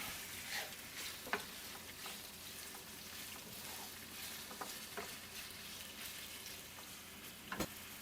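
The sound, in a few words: beef pieces searing in a pan for Beef Wellington bites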